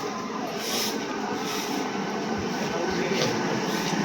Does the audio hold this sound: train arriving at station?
yes